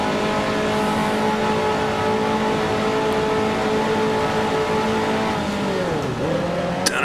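A 1955 Formula One race car engine in Grand Prix Legends at the French Grand Prix holds a loud, steady, close drone, then dips sharply in pitch near the end as it shifts down before climbing again.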